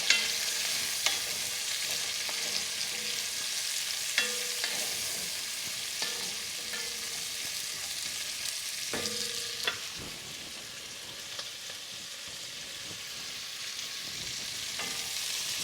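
Sliced garlic browning in a pan for a simple coq au vin, a steady bright sizzle throughout with occasional clinks and scrapes of stirring.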